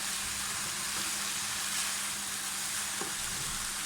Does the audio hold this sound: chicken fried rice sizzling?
yes